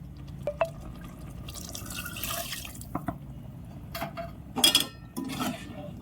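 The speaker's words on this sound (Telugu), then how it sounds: "వాటర్ వేసుకొని కలుపుకుందాం." Water is added to green chicken curry in a pan and stirred in, giving scattered splashes, drips and short liquid bursts with faint clinks in a quiet kitchen.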